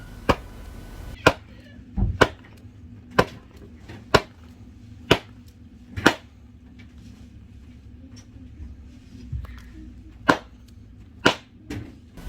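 Sharp leather pops of a ball striking the pocket of a Louisville Slugger TPX Evolution EV1175 baseball glove ring out one after another at irregular intervals, close and crisp over a quiet room.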